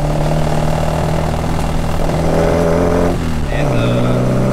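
A big truck's engine rumbles low and steady in narrow city traffic in Tokyo, heard from nearby with a constant drone that shifts pitch slightly as it moves.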